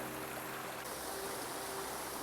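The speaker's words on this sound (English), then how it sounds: "This has little cascades all the way down the hill." Small creek cascades and a little waterfall on a spring hillside of Humbug Mountain, a steady, close, broadband rush of flowing water with no voices.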